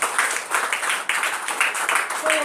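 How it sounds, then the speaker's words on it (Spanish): A church congregation gives loud applause together, a dense and steady wash of many hands clapping that fills the room throughout. "Damos fuertes palmas al Señor Jesucristo."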